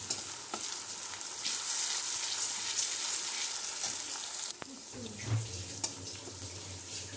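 Onions frying in a pan on the stove, a soft, steady sizzle with occasional stirring clinks and a brief lower rumble partway through, fairly faint and without talk.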